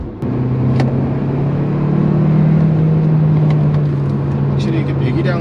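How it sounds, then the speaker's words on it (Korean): A Hyundai Kona 1.6 turbo N Line engine pulls under acceleration, heard from inside the cabin as a steady low drone that rises gradually, with someone talking over it. "엔진룸에서 들어오는 사운드가 꽤 있습니다."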